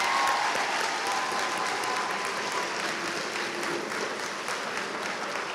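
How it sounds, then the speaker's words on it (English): Audience applause fills a school's 8th grade promotion ceremony, steady dense clapping from a large crowd at a loud, even level throughout. "Let's give them a round of applause."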